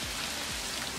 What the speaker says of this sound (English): The hail started coming real heavily.